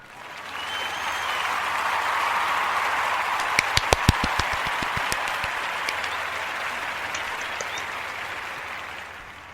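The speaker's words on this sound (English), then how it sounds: "to Kandace's parents, we give you a huge round of applause from us here" An audience gives a long round of applause for Kandace's parents, steady dense clapping throughout with a few sharper claps standing out near the middle.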